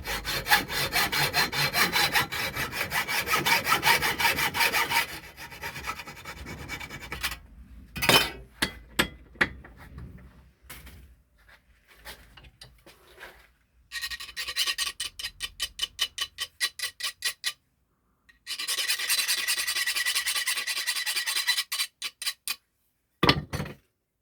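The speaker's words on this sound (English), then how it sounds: "Generally give it a bit of a file first and then bring the nut off." File rasping across a threaded bolt on a Nissan Terrano/Ford Maverick steering box, rapid rhythmic metal strokes in several bursts separated by pauses, close and fairly loud, with no talk.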